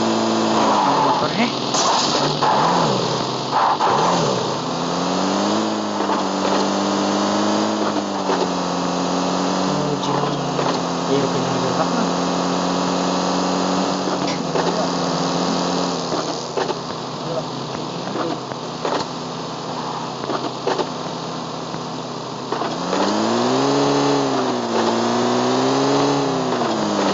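A motor vehicle engine in the PUBG battle-royale game drones steadily as a buzzing hum for the whole stretch, its pitch rising and dipping as the vehicle speeds up and eases off.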